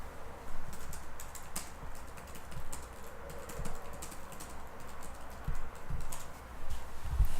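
Rapid keystrokes on a computer keyboard clatter in an uneven, continuous stream of close, crisp clicks with brief pauses, and no one speaks.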